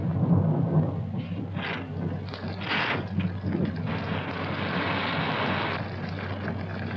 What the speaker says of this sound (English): I think it would be foolish to go out in such a storm.